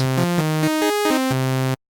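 A buzzy analog synthesizer plays a short run of stepped notes, rising then falling, bright and harmonically rich, ending abruptly in silence.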